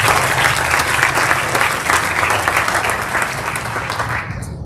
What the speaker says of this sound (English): Let's have a round of applause for our cross-country team.